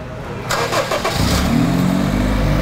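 A supercharged Honda Freed with an open exhaust, replaced downpipe and open air filter starts up, cranking briefly before settling into a loud, steady idle close by, with no talk.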